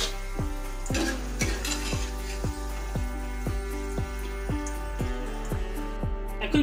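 Potatoes fry in hot oil in a pan, a steady bubbling sizzle with regular metallic taps and scrapes of a utensil, close and fairly quiet without talk.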